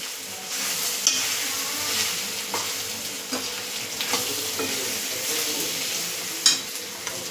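Boiled, peeled potatoes stirred in a pan for a dry potato dish, with steady frying crackle and repeated scraping strokes of a spoon, close-up and continuous, a sharper knock near the end, no voices.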